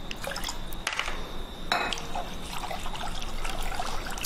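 Water trickles and pours into a bowl of rava dosa batter in a home kitchen, a steady thin dribble with a brief clink of a utensil partway through, close and fairly quiet, with no talking.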